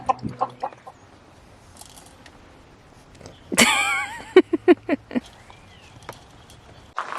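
A chicken clucks on a farm amid irrigation and stone work: a loud squawk followed by a quick run of five or so sharp clucks, with scattered knocks and shuffling around it.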